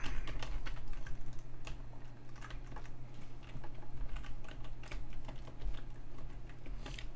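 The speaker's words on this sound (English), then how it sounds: "Okay, so now we just need to type in all this shit." Steady computer keyboard typing at close range, a continuous run of quick irregular key clicks over a low background hum, with no speech.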